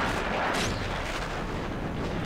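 A rocket explodes in Half-Life 2 Episode 2, a dense, rumbling blast that washes over everything and holds steady without fading, with no talking.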